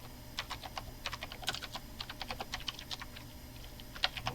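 Typing on a computer keyboard during a physics exam review, a quick irregular run of sharp clicking keystrokes with a louder tap near the end, close and clear with no voice.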